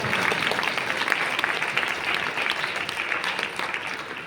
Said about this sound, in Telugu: ఏసే కావాలి అన్న వాళ్ళు 2 చేతులు ఆకాశంలో చూపించి విశ్వాసంతో చప్పట్లు కొట్టండి